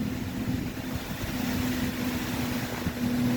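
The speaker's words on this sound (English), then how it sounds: "It's just a car." A loud car passes during a wind storm in Charters Towers with a steady engine drone and a sustained whining tone, heard at a moderate distance under gusty background noise, with no talking.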